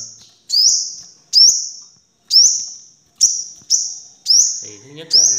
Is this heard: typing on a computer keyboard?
no